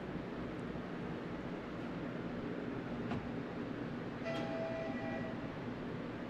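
A small train-whistle ringtone chirps briefly outdoors over constant rushing wind noise.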